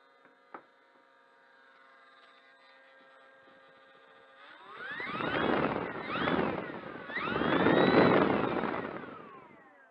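The electric motor of an RC F8F Bearcat model plane hums faintly, then throttles up into loud rising and falling whines, three close surges of power with short dips between them, and no voices.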